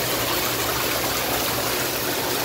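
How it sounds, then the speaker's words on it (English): The waterfall feature of a 2019 Coast Apex L Curve hot tub runs strongly, a loud, steady broadband rush of falling water with no pauses or voices. "Normally I don't have the waterfall on quite this strong"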